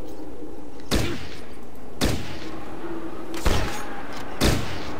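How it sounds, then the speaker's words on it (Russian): Four separate heavy gunshots in Fallout Tactics, spaced roughly a second apart, each a sharp, thudding blast over a quiet background hum. "Чем он стреляет, интересно?"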